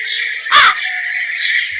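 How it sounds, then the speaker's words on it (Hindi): A crow cawing loudly, heard as a sustained, piercing bird call with a harsh, louder burst partway through, standing alone without voices. "ये सुनकर कौवा जोर जोर से रोने लगता है।"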